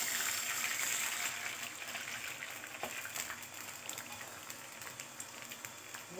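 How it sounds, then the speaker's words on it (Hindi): Water is poured into a pan of hot mustard-seed and chilli tempering for dhokla, giving a rushing splash and hiss that settles into a softer bubbling simmer, close up with no voices. "मैं इसमें ऐड करने वाली हूँ पानी।"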